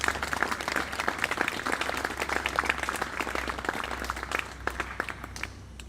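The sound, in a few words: audience applause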